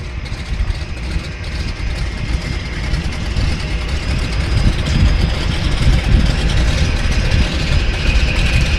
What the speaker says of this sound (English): That's the throaty roar of a piston radial engine for you guys.